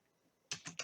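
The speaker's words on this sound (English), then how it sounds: "Now type in these words specifically." Three quick keystrokes click on a computer keyboard close by after a brief quiet moment.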